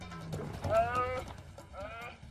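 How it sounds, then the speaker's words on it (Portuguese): A wild aardvark under attack gives deep, bleating calls: one drawn-out cry and then a shorter second one, fairly faint against rustling background noise. "O barulho que o orictéropo fez foi tipo de um balido profundo."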